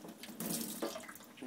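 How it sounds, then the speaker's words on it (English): Water gushing in a short burst from an aquarium siphon hose being started during a baby fish tank clean, a splashing, hissing flow that swells and dips over about a second and a half, close by with no talk. "you'll see now a shot of water coming out of here"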